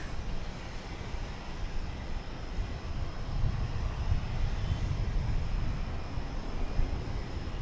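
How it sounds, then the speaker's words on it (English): American Airlines jet from Louisville arriving on runway 18 right at DFW Airport in the morning, a steady distant engine rumble that swells slightly mid-clip, with no voices. "here comes American Flight 385 from Louisville, arriving on runway 18 right"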